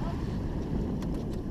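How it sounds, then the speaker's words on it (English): Strong wind buffets a boat out on Lake Erie, a steady loud roar of gusts against the microphone with faint water noise underneath. "Oh. Big wind."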